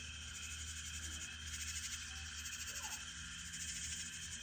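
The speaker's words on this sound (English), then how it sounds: "As you can hear the nighttime animals and frogs and bugs and everything." Nighttime insects and frogs on a Texas homestead form a steady, dense chorus of shrill cricket trills with faint croaks, continuous and distant under a quiet low hum.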